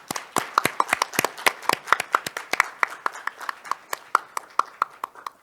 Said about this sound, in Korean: 감사의 박수를 한번 보내주시면 좋을 것 같습니다